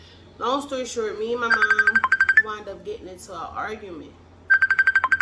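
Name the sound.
phone ringtone during an incoming call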